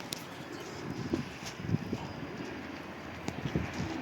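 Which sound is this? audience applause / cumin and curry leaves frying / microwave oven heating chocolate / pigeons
pigeons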